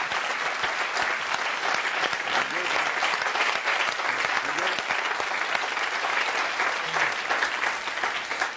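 Studio audience applause on a French TV show, a dense sustained wash of many hands clapping at a steady level for several seconds, with faint voices underneath.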